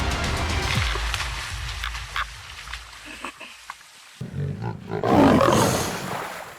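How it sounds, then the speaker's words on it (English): A wild lion roars, deep and loud, in a rough, rumbling call that swells near the end after a brief quiet gap, set against the savanna with no talk. "lion's roar, which can be heard up to 5 miles away, serves not only to assert its territory, but also to warn, challenge, and summon"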